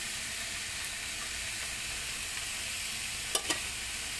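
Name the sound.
sauteing cabbage and mushroom vegetables in a pan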